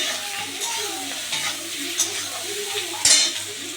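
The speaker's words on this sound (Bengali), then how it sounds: "এবার হালকা থেতলে দিয়ে এখানে দিয়ে দিলাম রসুনটাকে। এবার একটু নেড়ে দিচ্ছি।" Lightly crushed garlic and ginger frying in a pan, stirred with a utensil: a steady close sizzle with a few scraping strokes and a sharp metallic clink near the end.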